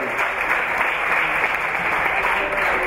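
Dense, steady audience applause fills a room at an awards ceremony, many hands clapping together at close range without a break for the whole stretch.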